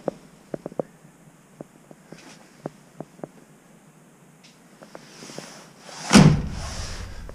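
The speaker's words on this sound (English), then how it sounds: "That door closes nice." A 1969 Dodge Charger R/T 440 Magnum, a garage find, has its door swung shut with one solid, heavy thump after a series of small clicks and taps.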